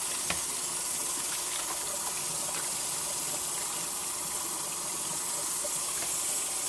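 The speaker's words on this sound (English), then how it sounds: "So this is how it feels washing something." Water running steadily from a tap while something is washed, a soft continuous hiss with faint splashes and small knocks throughout.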